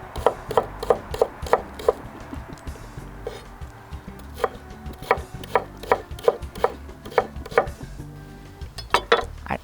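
A knife chops onion into small pieces on a board, sharp knocks in quick runs with short pauses between bursts, close and crisp with no talking.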